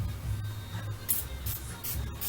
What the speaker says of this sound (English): You can do bursts, and it's a very fine mist too.